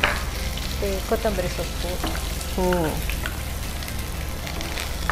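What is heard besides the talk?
onion stalks and chillies frying in a pan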